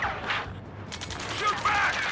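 Gunfire in the Ace Combat 7 video game, a busy battle mix of rapid shots and bursts running steadily under shouted voices throughout.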